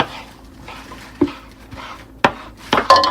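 Cranberries and orange are being chopped for cranberry relish, a few irregular knife knocks on a board with clattering and scraping of kitchenware, the hits growing sharper and busier toward the end.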